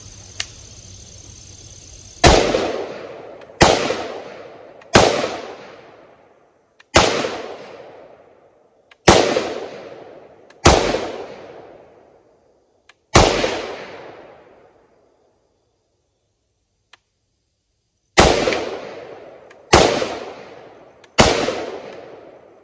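A rifle fires 55-grain .223 ball ammunition from a P-Mag while a Crimson Trace CTS-25 red dot is tested. About ten sharp, loud shots ring out at irregular intervals, each with a short echoing decay, a longer pause midway, and no talking.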